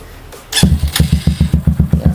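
A Honda TMX 150 motorcycle fitted with a racing carburetor, racing filter and stock elbow with bullet pipe fires up after a brief crank, settling into a loud, close, rapid popping exhaust beat.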